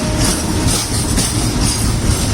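A goods train rolls steadily past on the rail track close by, a continuous loud rumble of wagons and wheels with faint clatter and a thin squeal running through the whole stretch.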